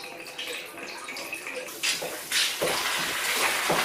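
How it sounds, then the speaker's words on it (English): Water running and splashing out of a towel rail radiator into a container, starting as a thin trickle and then coming in louder gushes, close by and without talk. "then we'll just turn the radiator and that can start dripping out"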